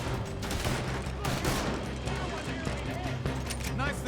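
Rapid volleys of gunfire from Red Dead Redemption II gameplay crackle steadily across the whole stretch, dense and sustained, with game sounds layered underneath.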